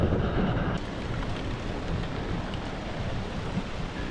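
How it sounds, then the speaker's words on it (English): Heavy rain pours down in a dense, steady roar outdoors in Eastern Kentucky, with no voices, just the constant wash of the downpour. "it's coming a monsoon out here"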